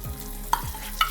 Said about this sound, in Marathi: त्या तुपामध्ये आपण मेथी पण भाजून घेऊया.